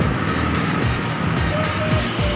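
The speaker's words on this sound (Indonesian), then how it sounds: "jadi banyak kendaraan yang lewat guys, mobil," Cars and motorcycles pass along a roadside in a steady, loud wash of traffic noise, with low engine rumbles swelling and fading as vehicles go by close.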